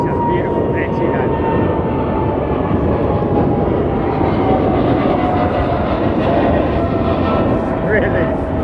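An Etihad airliner at London Heathrow Airport produces a loud, steady engine roar that holds unbroken for the whole stretch.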